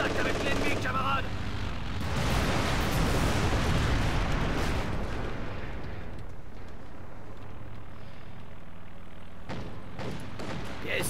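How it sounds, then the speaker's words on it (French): Air strike explosions roar in the World War II strategy game Company of Heroes 2, a long heavy rumbling blast that swells and then slowly fades, followed by a sharp crack near the end. "ça sentait la frappe aérienne"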